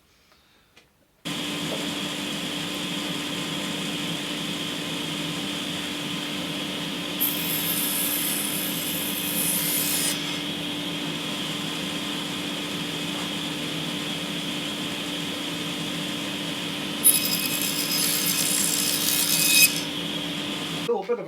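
Power saw blade starts up and runs with a loud steady whine and hum, then cuts a small test piece of wood in two brief rasping passes, close and continuous.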